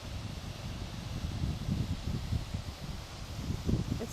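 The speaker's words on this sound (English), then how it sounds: "It's quite windy up here," Gusty wind buffets the microphone outdoors on a volcanic mountain in Tamborine National Park, a low rumbling roar that swells and fades in uneven bursts.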